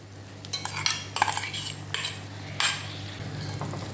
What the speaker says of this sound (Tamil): மசாலா சேர்த்து நல்லா வதக்கி விடுங்க.